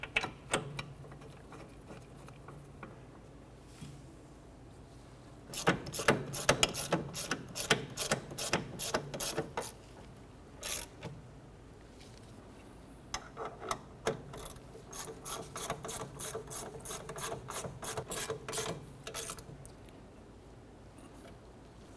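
A ratchet snugs down the rear brake caliper bracket bolts on a 2006-2013 Chevrolet Impala, with quick bursts of rapid clicking separated by short pauses, close and moderately loud.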